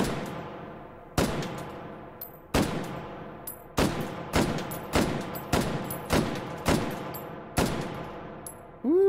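Galil AR rifle firing in the VR shooter H3VR: about nine loud, sharp single shots at slightly uneven intervals, each with a ringing tail, then a metallic clank at the end. No talking.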